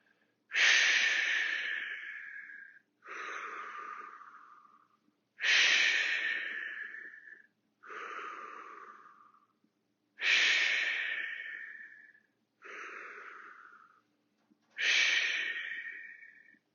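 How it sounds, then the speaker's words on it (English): Exercise breathing during a fitness class: seven strong breaths alternate between forceful exhales and softer inhales in a steady rhythm, close and clear with no talk. "Exhale up, inhale down, exhale, inhale"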